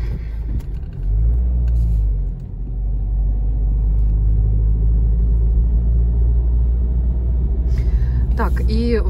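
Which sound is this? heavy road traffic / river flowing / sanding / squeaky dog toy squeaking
heavy road traffic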